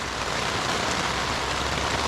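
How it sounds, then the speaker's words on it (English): Heavy rain pouring down on a motorcycle touring campsite, a dense, steady roar of drops drumming on surfaces with no break, loud and close. "4 days in a row now of riding in the rain, putting the tent up in the rain, camping in the rain"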